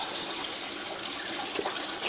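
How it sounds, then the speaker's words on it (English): Water rushes steadily through house plumbing, a constant broadband hiss and gurgle with no break and no voices. "there is quite a bit of water running"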